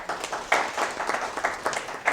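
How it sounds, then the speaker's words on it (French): Applause from a studio audience on a leadership television programme, a burst of irregular clapping with uneven peaks, moderately loud and close, lasting a couple of seconds. "Vos applaudissements s'il vous plaît."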